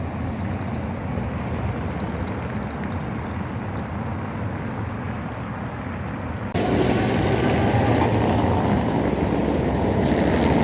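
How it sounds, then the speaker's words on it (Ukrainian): A Swiss-built tram, around 30 metres long, rolls along Copernicus Street in Lviv, its steady rumble jumping louder and broader about two-thirds through as it passes close by. "Вулицею Коперніка проїжджає трамвай другого маршруту 1071."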